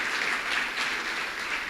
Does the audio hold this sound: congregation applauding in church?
yes